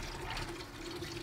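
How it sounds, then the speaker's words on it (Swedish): Water gushing from a drain pipe, a brief close rushing and gurgling flow with a hollow pipe resonance. "Så kommer det nog komma lite vatten."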